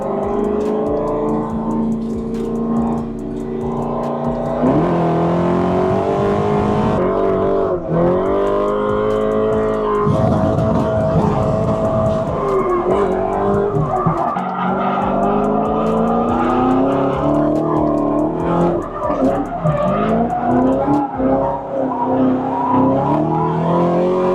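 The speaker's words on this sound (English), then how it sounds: "All right, first time in a drift car. Let's go." A drift car's engine revs hard and continuously at close range, rising and falling in loud sustained roars with possible tire squeal as it slides, and no talking.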